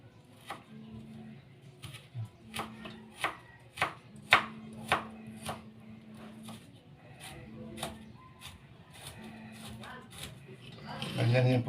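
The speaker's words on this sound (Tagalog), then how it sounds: "Bago natin hiwain ulit." Knife chopping food for kilawin on a board, a series of distinct sharp cuts at an irregular pace, close and clear, with a brief rustling burst at the end.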